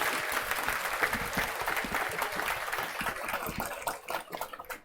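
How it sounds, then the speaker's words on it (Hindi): Loud, dense applause from a large audience at a public gathering, sustained steadily for about five seconds before thinning out slightly toward the end, with no talk over it. "सब लोग जोर से ताली बजाइए इन लोगों के लिए।"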